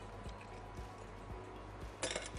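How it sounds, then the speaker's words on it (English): Sugar muddled in a glass for a vodka cocktail at a hotel bar, giving a steady series of soft, dull thumps about twice a second, with a brighter glassy clink near the end. "You muddle it like this way."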